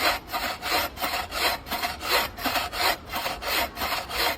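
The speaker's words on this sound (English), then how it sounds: "we're going to cut this one all the way through. What we're using is the buck saw" Buck saw cutting all the way through a piece of wood, about a dozen steady rhythmic rasping strokes, close and clear with no talking.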